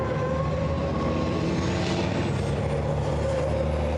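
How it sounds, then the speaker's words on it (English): A racing truck in an FIA ETRC qualifying session at the Hungaroring circuit drives on, its engine a loud, steady, continuous roar that holds throughout with no break. "55 should be the first truck to get to the final corner."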